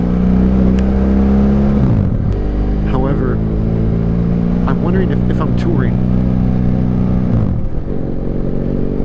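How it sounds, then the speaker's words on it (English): A BMW GS motorcycle with its exhaust baffle or dB killer removed idles with a loud, steady, deep rumble throughout, while someone talks over it close by. "for the city, I much prefer the no baffle or no DB killer sound"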